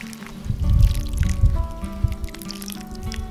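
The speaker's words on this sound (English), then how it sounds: "Now we'll water them a little." Water trickles and drips onto soil in small pots of newly planted tomato seeds, a soft uneven splashing that is fairly close and stands alone, without talk.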